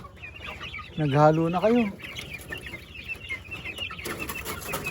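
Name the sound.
chicks clucking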